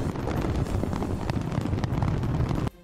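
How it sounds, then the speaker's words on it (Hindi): Fireworks bursting over Sydney Harbour at a New Year's midnight celebration, a dense, continuous roar of explosions and crackle at loud level that cuts off abruptly near the end. "इन वीडियो में शानदार आतिशबाजी होती हुई नजर आई"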